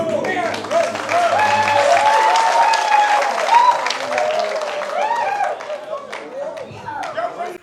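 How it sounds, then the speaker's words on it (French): An audience at a French commemorative event applauds, lively clapping from a crowd with scattered cheers and calls running throughout, fading slightly toward the end. "je voudrais vous demander de les applaudir encore. Encore plus fort."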